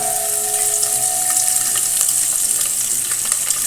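Egg biryani ingredients roasting in a little coconut oil make a loud, steady sizzle. The bright frying hiss runs continuously and close up, with no voices.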